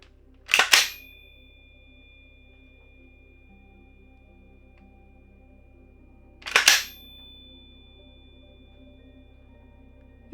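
Two sharp rifle shots through a three-prong muzzle device (Surefire Warcomp, BCM Comp or 4 Prong), each a loud crack followed by a faint lingering metallic ring, spaced about six seconds apart with quiet between.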